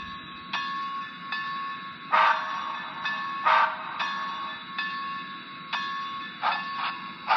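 Repeated short toots of an HO scale Bachmann Frisco 1630 model train whistle over a steady running hum at full speed, sounding at irregular intervals, some bursts louder and harsher than others.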